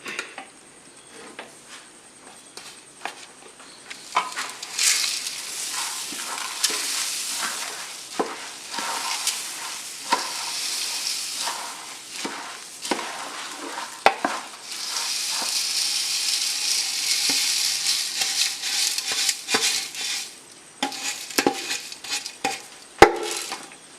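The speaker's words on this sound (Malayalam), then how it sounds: "ഇനി നമുക്കിതിലേക്ക് അവൽ ചേർത്ത് കൊടുക്കാം" Flattened rice (aval) tipped into a hot pan and stirred, with a steady sizzle and hiss broken by repeated scraping, clattering strokes of a spoon against the pan, loud and close with no talk.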